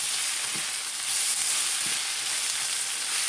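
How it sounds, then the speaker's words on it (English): Rice and chopped tomatoes sauté in a hot pan with a steady, close sizzling hiss throughout, plus a couple of soft stirring scrapes, no voices. "with just sauteing the tomato in with the rice, I usually do it for like about a minute or 2 minutes"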